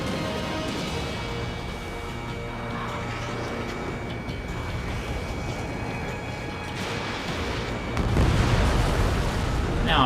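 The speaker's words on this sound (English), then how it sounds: "Mage 2, missile launch." Missile launch and explosion inside the Ace Combat 7 flight combat game, a steady roar of jet and weapon noise that swells into a louder booming burst near the end, with no talk over it.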